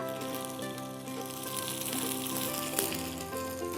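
Boiled macaroni and crisp fried onion sizzle steadily in a hot pan for chicken cutlet, a dense close crackle with a brief clink near the end and no talk.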